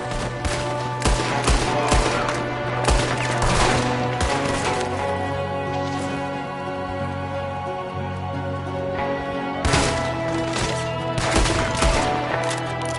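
Rapid bursts of gunfire from a Red Dead Redemption 2 shootout, a gunman firing from a window, crack out in dense volleys over a steady droning game score, with a lull in the middle before another heavy flurry of shots.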